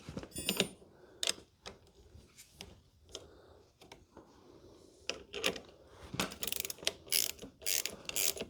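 A wrench ratchets and clicks while tightening the exhaust mounting nut on a 2023 Honda Grom 125 during a LeoVince exhaust install, with irregular bursts of close metallic clicking and short pauses between them.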